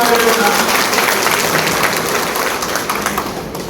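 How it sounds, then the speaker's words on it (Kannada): Sustained applause from a political campaign rally audience, many hands clapping densely and steadily at close range, fading slightly toward the end with no talk over it. "ತಾವೆಲ್ಲರೂ ಒಂದು ದೊಡ್ಡ ಚಪ್ಪಾಳೆಯನ್ನು"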